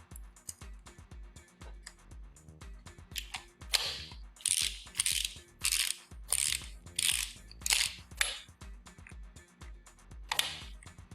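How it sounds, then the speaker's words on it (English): A ratchet tightens hex bolts on a Hypro 9303C-HM1C pump, with close, rapid clicking strokes in repeated bursts and short pauses between them. "Tighten these hex bolts down in a crisscross pattern to approximately 15 foot-pounds."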